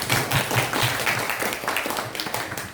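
Applause from a classroom group, a fairly close, steady clatter of hands clapping with slight rhythmic pulses, fading a little toward the end.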